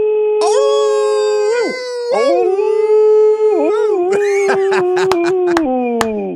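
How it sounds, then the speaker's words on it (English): Neighborhood dogs in Staunton howl together in a loud, close chorus of long, rising and falling wails, with yips and sharp barks breaking in toward the end. "Howling in Staunton."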